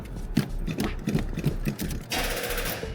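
Engine cranking on a weak battery and failing to start, a fast rhythmic chugging churn for about two seconds that gives way to a steady whirring hum, close and alone.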